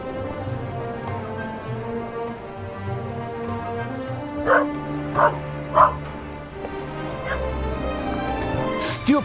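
Dog barking in the video game The Raven, with three or four sharp yips and barks rising over a steady musical and ambient game background, ending with a final whimpering bark.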